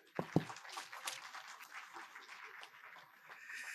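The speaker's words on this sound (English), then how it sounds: "I think he deserves a better round of applause than that" A book launch audience for Engr. Rtn. Obiga David's "17 Nights of Despair" breaks into a moderate round of applause, with a couple of sharp early claps and then steady clapping, a voice faintly mixed in.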